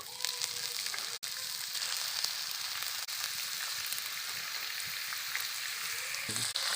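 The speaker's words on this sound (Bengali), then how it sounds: "গাজর আমি ভালো করে ভেজে নেব।" Chopped carrots fry in ghee and oil in a wok, a loud, dense, continuous sizzle close by with no talk, briefly dipping once or twice.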